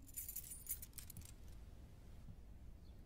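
A bunch of keys jangles in a short, faint metallic burst during a search for them, then fades into quiet room tone.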